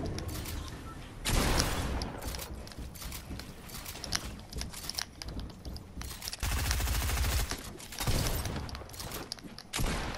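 Pump shotgun fire in Fortnite, heavy single blasts spaced irregularly among other gunshots and clattering game effects, moderately loud and recurring throughout.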